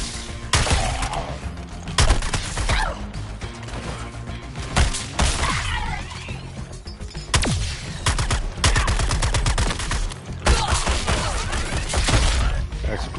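Rapid bursts of gunfire crackle in the action game Suicide Squad Kill the Justice League, loud repeated volleys and thuds coming in uneven clusters, with game voices talking in between.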